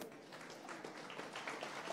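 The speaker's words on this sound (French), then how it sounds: "On l'applaudit." A brief patter of applause from a crowd, fairly faint and steady throughout.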